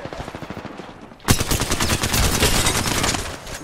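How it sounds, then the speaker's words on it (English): Rapid automatic gunfire rattles in Apex Legends, a short quieter burst followed by a sudden loud, sustained barrage of close shots and overlapping volleys. "Why is there four people only shooting at me, bro?"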